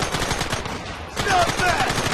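Short, dense volley of gunfire in Red Dead Redemption, loud and close, dipping briefly before another burst resumes.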